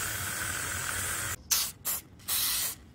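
Graphite lubricant sprays from an aerosol can during a South Bend Heavy 10 lathe restoration: a long steady hiss, then three short sharp bursts of spray, loud and close.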